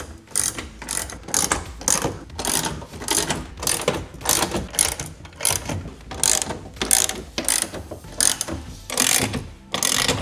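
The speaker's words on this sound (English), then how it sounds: "I'm gonna go ahead and tighten all the bolts down on the bed rail" Rapid ratcheting as bolts are tightened down on a truck bed rail of a Ford F-150 while mounting a Weather Guard Defender rack, a steady run of clicking strokes in quick bursts, close and clear with no talk.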